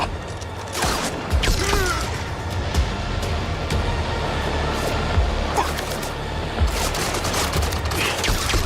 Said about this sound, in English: Bullets are bouncing right off!